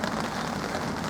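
Steady rain pours down on a carp fishing lake, a dense, even hiss of drops with no pauses and no voices.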